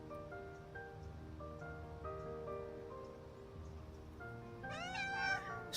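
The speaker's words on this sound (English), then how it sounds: "The cat calls over the other stray cats." A stray cat in the video game Love and Deep Space lets out a sharp, wavering meow near the end, rising above a soft musical background score.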